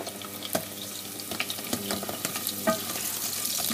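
Onions lightly browning in a pan make a steady close sizzle, with scattered crackles and stirring clinks throughout and no speech.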